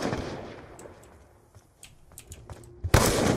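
An unsilenced sniper rifle fires in Call of Duty Black Ops 2, a single loud, sharp crack near the end after quieter scattered game noises and footsteps.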